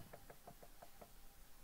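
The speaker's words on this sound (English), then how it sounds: "I'll knock again." Knuckles rap on a door in three quick pairs of knocks, six evenly paced raps in all, fairly faint and a little distant, then quiet.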